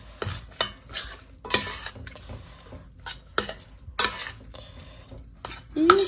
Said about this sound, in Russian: И перемолотые семена чиа. Тоже так немножко насыпаю, сейчас все перемешаю.